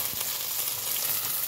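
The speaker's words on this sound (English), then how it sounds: "Here you can see I'm frying my ladyfinger first." Okra (ladyfinger) pieces frying in hot oil in a pan for a curry, a steady close sizzle and crackle with soft stirring scrapes, no talking.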